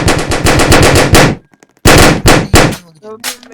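Automatic gunfire in the Roblox video game comes in two loud, rapid bursts separated by a short pause, with a brief voice heard at the end.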